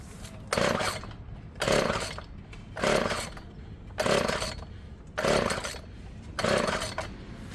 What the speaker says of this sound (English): As I pull the choke, make sure that your stop switch is to the left if you're facing it, and then yank it a few times.